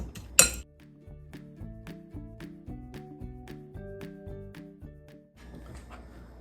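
A fork clinks steadily against a bowl while blending sugar and pie crust ingredients, a sharp knock at the start and then a regular tapping rhythm, close and fairly soft.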